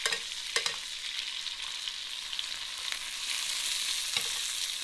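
Butter foams and sizzles steadily in a hot pan around a black pepper steak, a close continuous hiss with a few soft clicks of a utensil and no talking.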